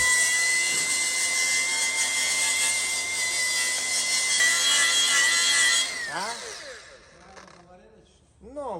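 A wire wheel grinds steadily across a cracked RV tank for about six seconds, a loud, continuous high-pitched whir, then winds down as scattered scraping and handling noises follow.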